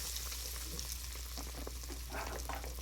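Fish dropped into a hot deep fryer for a low-carb fish fry sets off a steady, fairly quiet sizzle and bubbling crackle over a constant low hum, heard up close with no talking.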